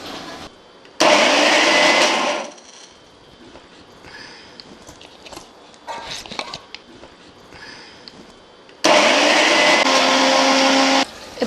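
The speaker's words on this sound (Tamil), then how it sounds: "இப்போ இதை வந்து நான் மிக்சியில் நைஸாக அரைச்சிட்டு உங்களுக்கு காமிக்கிறேன்" An electric mixer grinder churns soaked rice into smooth batter for kai murukku. Two loud, steady whirring runs of about one and a half and two and a half seconds sit on either side of quieter clinks and handling noises.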